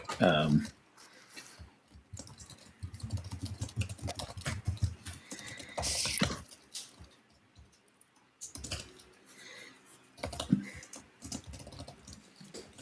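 Rapid clicking of keys being typed on a keyboard, close and steady, with talking over parts of it.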